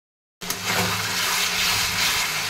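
Ginger and garlic frying in a pan: after a brief silence, a loud, steady sizzling hiss starts abruptly and holds unbroken to the end.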